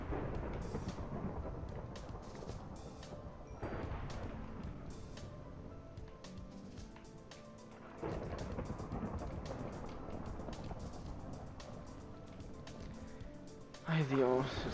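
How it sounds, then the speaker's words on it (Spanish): A Minecraft thunderstorm plays continuously, with rain and low rumbling thunder swelling several times and a sharper crack near the end. "es que tormenta y voy a salir en medio de una tormenta"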